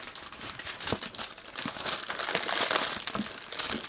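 Plastic packaging crackles and crinkles steadily up close for about four seconds while a pair of Attitude v5 FPV goggles is being unboxed, with brief louder crunches and no talking.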